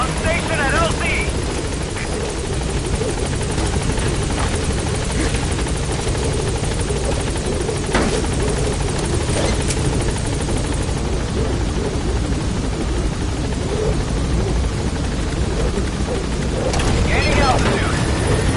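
Loud, continuous helicopter rotor and engine roar as a chopper arrives at a landing zone in Metal Gear Solid V, a steady close drone throughout with a radio voice speaking over it.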